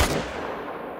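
A single sharp rifle gunshot in the video game Hunter: Call of the Wild cracks at the start, followed by a fading rumbling echo.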